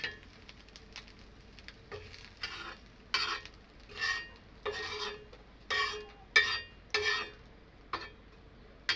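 Small puti fish frying in a pan, with repeated bursts of sizzling and scraping as a spatula turns them, about ten irregular strokes over a faint background hiss, close and fairly quiet.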